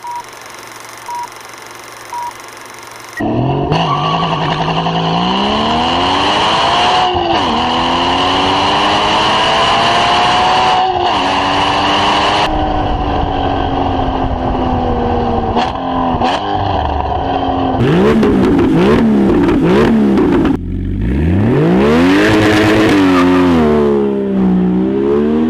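Porsche Cayman GT4 sports car engine revving hard through the gears, with rising and falling pitch sweeps, a brief lift-off near the middle and another loud acceleration at the end, heard alone without talk.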